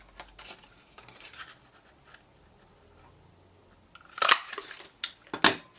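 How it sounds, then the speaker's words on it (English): A one-inch square paper punch cuts through card during a stamping craft project, giving a few sharp, close clicks and crunches in quick succession after a quiet stretch. "Punch it with the 1-inch square punch."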